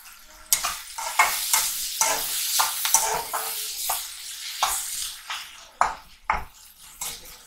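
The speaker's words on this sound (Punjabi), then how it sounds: "ਅਤੇ ਆਪਣਾ ਤੜਕਾ ਭੁੱਜ ਗਿਆ" Tadka tempering frying in a pan, a bed of sizzle broken by regular, fairly loud scraping strokes of a spoon stirring against the metal, with no voices.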